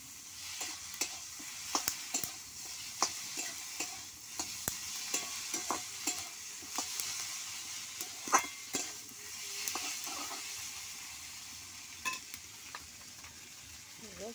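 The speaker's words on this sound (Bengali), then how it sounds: "ট্যাংরা মাছ ভাজাগুলো ভালো করে নাড়াচাড়া করে নেব" Tengra fish sizzle steadily as they fry in a pan, with a spoon stirring and scraping at a regular rhythm throughout, close and fairly loud with no talking.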